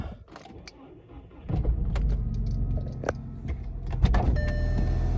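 A Volkswagen Beetle engine cranks and catches, settling into a low steady idle rumble, with a few clicks and a faint open-door chime near the end.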